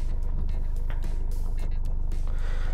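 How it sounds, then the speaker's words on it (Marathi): A diesel car engine idles after starting, a steady close-up low throbbing rumble with rhythmic pulsing that runs throughout, with faint background noises on top. "डिझेल इंजिन आहे त्यामुळे तुम्हाला आवाज येत असेल"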